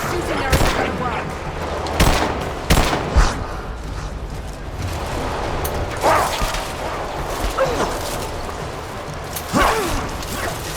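Gunfire in Rise of the Tomb Raider, in the Baba Yaga: Temple of the Witch DLC set in Siberia: sharp, loud shots spaced irregularly over about eleven seconds against a busy combat background, with a voice speaking between them.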